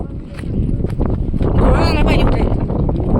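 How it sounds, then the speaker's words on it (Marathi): Strong wind on a hilltop buffets the microphone in loud, rumbling gusts that last the whole moment, while people talk nearby. "वारा कसलाय बघ."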